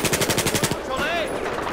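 Rapid automatic gunfire in Battlefield 4, a quick burst of evenly spaced shots for most of a second, then a short whining whistle and game noise with a brief voice.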